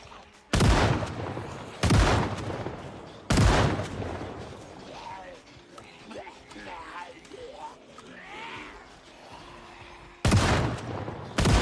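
Loud shotgun blasts fired at zombies in a zombie survival game, five heavy booms spread across the stretch with a quieter game ambience and scattered sounds between them; no one speaks.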